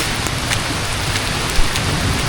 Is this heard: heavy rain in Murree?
yes